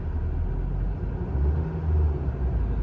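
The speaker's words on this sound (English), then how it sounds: "I'm going to give it a little bit of throttle." A GMC Denali engine idles with a steady low rumble, swelling slightly under light throttle in two gentle surges, close and continuous with no talking.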